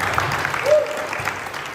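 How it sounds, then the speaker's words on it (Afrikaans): Applause for musicians at a church worship service, a steady wash of clapping from the congregation running through the whole moment, with voices mixed in beneath it. "Kan ons voor hulle lekker aan de klap geven."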